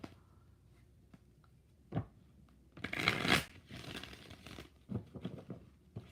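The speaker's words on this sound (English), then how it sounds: "2 more shuffles." Tarot cards riffle-shuffled in two close, crisp bursts, a brief snap followed by a longer papery flurry, then softer scattered card taps, with no voices.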